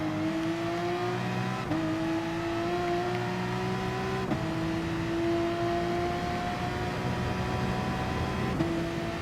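Mid-engine Gr.3 race car in Gran Turismo Sport, its engine droning steadily at high revs and rising in pitch through each gear before short drops at the upshifts, loud and continuous throughout.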